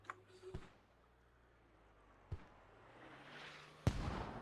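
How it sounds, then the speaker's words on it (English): Incoming mortar rounds land in the Squad video game as three separate sharp booms spaced a couple of seconds apart, the last one loudest and followed by a rushing rumble, with quiet ambience between blasts. "Got mortars coming in from Infected's team trying to stall the cap"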